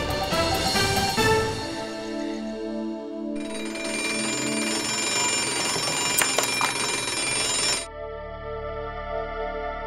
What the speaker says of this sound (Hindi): अलार्म बंद करके सीधे हॉल में आओ अभी।